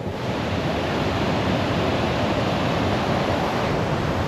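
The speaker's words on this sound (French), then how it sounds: "Il y a des vagues immenses de 4-5 mètres, là on les voit encore un peu." Huge ocean waves four to five metres high crashing in strong wind on the coast at Sydney, a loud continuous wash of surf and wind noise with no talk.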